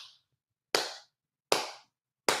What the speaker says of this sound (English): give them Lakers a worthy clap